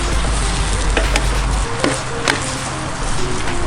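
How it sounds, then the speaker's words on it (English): Seafood sizzles loudly in a hot pan outdoors, a steady dense frying hiss with a few sharp clacks of utensils over it. "You see the sizzle?"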